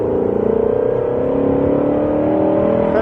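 A car accelerates hard on a track during a driving lesson, its engine note rising steadily and loud, close and continuous with no voices.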